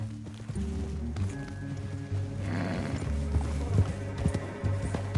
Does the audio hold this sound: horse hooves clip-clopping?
yes